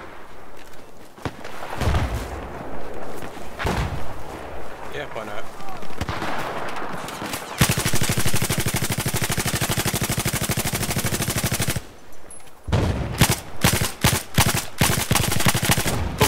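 Machine gun fire from the M240B in Battlefield 4 rushes through loud sustained bursts and rapid rattling volleys on the Operation Metro map, mixed with other gunshots and game noise, while players talk over it.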